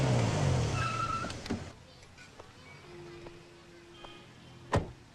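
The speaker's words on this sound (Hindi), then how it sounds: "अरे एक मिनट गाड़ी रोको।" A car on the street rumbles loudly as it pulls over, then its noise drops away to near quiet, followed by a few scattered clicks and a sharp knock.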